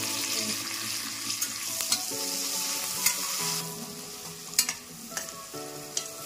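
Sliced onions, green chilies and curry leaves fry in a pan with a bright, continuous sizzle up close, broken by occasional stirring clicks against the pan.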